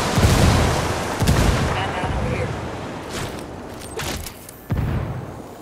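Frag grenade blasts in Ghost Recon Wildlands on PS5: a few heavy, close booms spaced seconds apart, each decaying into rumble, mixed with gunfire while voices talk over the combat.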